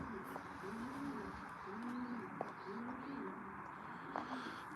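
Pigeons cooing in a pigeon loft: a steady run of soft, repeated coos at moderate distance, with a few sharper calls and a constant low background hum.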